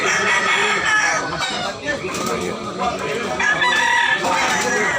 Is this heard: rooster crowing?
yes